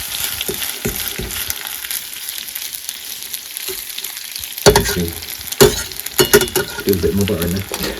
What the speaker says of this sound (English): Swish this around in the butter